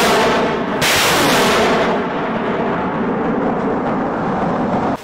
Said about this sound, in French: Avant les hostilités, c'est l'artillerie qui annonce les couleurs.